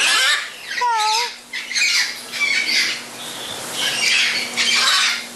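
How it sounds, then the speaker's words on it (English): Hawk-headed parrots in an aviary give harsh, loud squawks, one sharp call near the start followed by scattered rasping cries and some flutter, with other birds faintly in the background. "Here's some more hawkheads."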